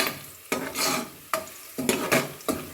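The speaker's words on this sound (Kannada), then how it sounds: "ಚೆನ್ನಾಗಿದು ಕಲರ್ ಬರೋವರೆಗೂ ಚೆನ್ನಾಗಿ ಫ್ರೈ ಮಾಡ್ಕೊಳ್ಳಿ" A spoon scrapes through onions sizzling in a pan as they fry for a spinach curry, with about five distinct stirring strokes over a steady, close crackle.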